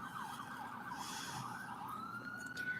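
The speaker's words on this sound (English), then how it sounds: "What's with all the sirens throughout this entire stream?" Emergency vehicle sirens wail outside, the rising and falling tones continuous and moderately distant, with faint road traffic beneath.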